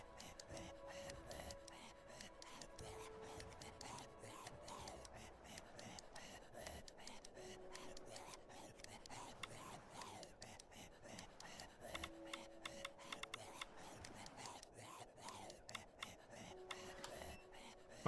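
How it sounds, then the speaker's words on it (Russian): Lockpick turning and clicking inside a lock in the steampunk zombie survival game Simantik: a steady run of faint metallic ticks and scrapes repeating for the whole stretch, with soft game ambience beneath. "Вращать отмычку мышью, когда услышите щелчок"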